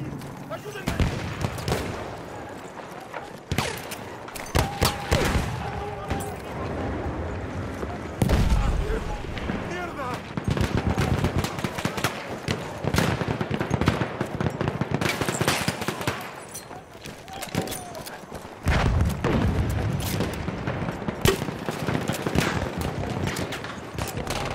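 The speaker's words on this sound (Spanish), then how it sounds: "¡Una ametralladora enemiga!" Enemy machine gun fire in a video game, repeated bursts of rattling automatic fire and gunshots through a long battle, mixed with shouted voices of soldiers.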